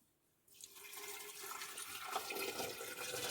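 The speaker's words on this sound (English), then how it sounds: "So now I'm gonna tip in my water." After a quiet start, water tips into a jar holding fresh ginger, a continuous rushing pour that swells and stays loud for the rest of the moment.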